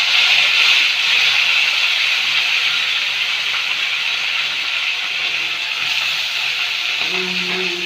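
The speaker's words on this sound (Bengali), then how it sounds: "পেঁয়াজ ভাজা হয়ে গেল" Onions frying in a pan give a loud, continuous, even sizzle close by, with a brief voice entering right at the end.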